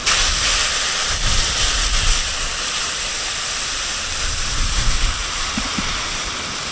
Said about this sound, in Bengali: আমি পরিমাণ মতো জল দেবো